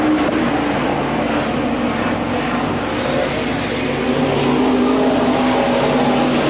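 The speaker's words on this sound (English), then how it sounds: "Van Dyke, his edge car hugging the low side" Sport compact race cars circle Crawford County Speedway in a continuous, loud engine drone with a shifting pitch as the pack runs past. No voices are heard.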